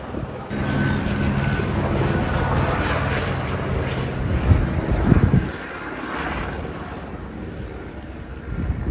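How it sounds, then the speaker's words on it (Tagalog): Aircraft engine noise, consistent with helicopters flying overhead near SM Calamba, holds as a steady broad drone throughout, swelling slightly in the middle without clear rotor beats. "Wow, tatlong helicopter."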